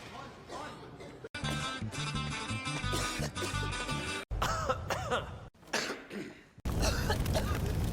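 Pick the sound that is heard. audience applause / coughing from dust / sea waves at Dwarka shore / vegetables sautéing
coughing from dust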